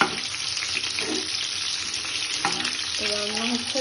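Butter garlic chicken sizzling and spattering in hot oil in a home kitchen, a steady broadband crackle throughout with brief clatters and a faint tonal whine near the end; no talking.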